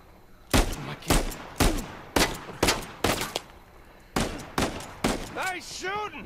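Bursts of gunfire in the video game Uncharted 4 crack out in a rapid string of about ten loud, evenly spaced shots, followed by a short voiced exclamation at the end.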